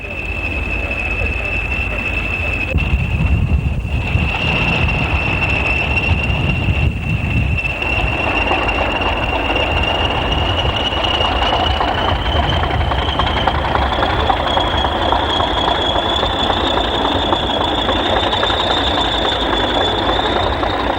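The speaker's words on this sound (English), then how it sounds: "Over in York, 4128 hauls some ECS from Clifton Sidings into the station." A British Rail Class 40 diesel locomotive hauls empty coaching stock from Clifton Sidings into York station, its engine droning steadily with a rising high whine and rumbling wagons throughout, with no talk.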